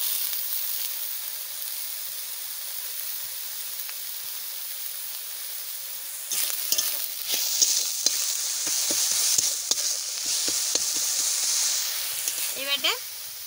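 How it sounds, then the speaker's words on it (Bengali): Onion and garlic fry in a pan with turmeric and salt for a bitter gourd masala. A steady, close hiss of frying runs throughout, joined about halfway by brisk scraping and clattering strokes of stirring. "মশলা আরও দেবো, কিন্তু পেঁয়াজ রসুনটা একটু ভাজা হয়ে নেবে।"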